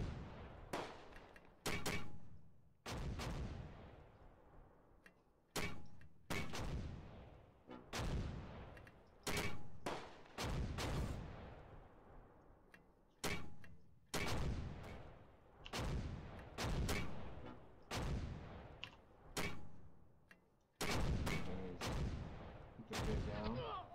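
Heavy gunfire rings out in a video game battle, loud booming shots fired one after another at an uneven pace, each leaving a long echoing tail, across the whole stretch with little talk.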